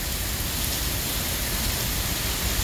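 Heavy rain pours down in a violent windstorm, a macroburst or tornado striking Rome, New York, as a dense, unbroken roar of water that stays steady and loud throughout.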